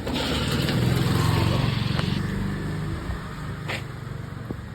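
A motor vehicle engine starts up, a rough close-up idling rumble that swells early, then settles into a steady, slightly lower chug.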